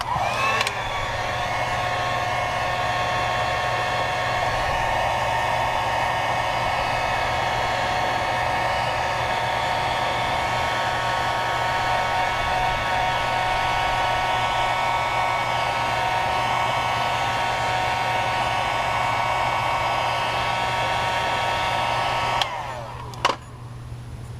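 A heat blower runs at a steady loud roar while warming a side badge on a 2015 Subaru WRX, continuing unbroken for a long stretch before it shuts off with a small clunk near the end.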